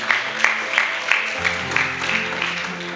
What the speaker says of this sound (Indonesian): tepuk tangan untuk Doris